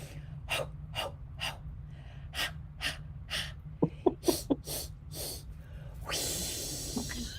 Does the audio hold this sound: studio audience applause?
no